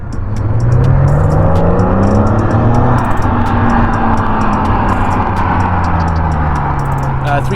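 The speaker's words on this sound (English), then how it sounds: "2003 E46 M3." A 2003 BMW E46 M3 with its 3.2-litre straight six runs loud and close, a steady engine drone with rising and falling revs throughout and no pauses.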